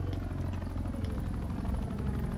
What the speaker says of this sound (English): Escort the VIP to the exfil chopper.